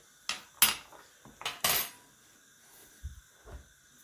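Knife slicing sticks of celery on a board, a few sharp, crisp chopping taps followed by two softer dull knocks, close and quiet, with no talking.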